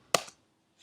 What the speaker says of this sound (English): just basically you shooting a gun.